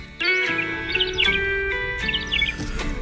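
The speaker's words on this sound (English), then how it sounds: "Today's Talkin' Birds featured feathered friend, Ringcophanes macownii, the thick-billed longspur." Thick-billed longspur calling, a series of bright twittering chirps in short bursts over a steady tonal background hum, close and clear with no talk.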